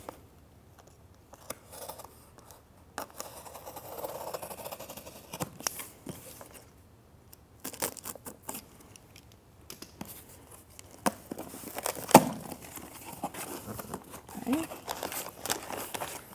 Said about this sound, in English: open up this headrest package, being careful not to get the knife blade too deep, cutting away from my body